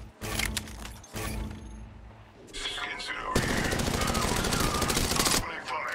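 Automatic weapon fire in Apex Legends Mobile, sustained bursts of rapid close shots with brief gaps, steady and loud through the latter half, with faint voice lines underneath.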